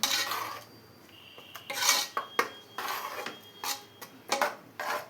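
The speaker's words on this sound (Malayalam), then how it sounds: "നമുക്കിതെല്ലാം കൂടെ നന്നായി ഒന്ന് മിക്സ് ചെയ്തെടുക്കണം." A spoon stirring green gram curry with ground coconut in a metal pot, with irregular close metallic clinks and scrapes separated by brief pauses.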